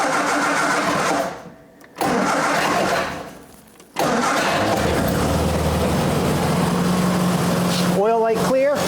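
A Triumph TR4 with the choke set cranks with a steady starter whirr, pauses twice, then catches and settles into a rising idle up close, ending with a brief revving flutter.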